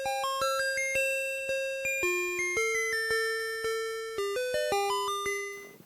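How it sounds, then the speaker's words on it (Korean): A school bell chime rings out as a clear electronic melody of bright, bell-like tones, each note struck and decaying in a steady sequence, ending on a sustained final tone with no talking. "종소리로 시작되고 종소리로 끝나죠"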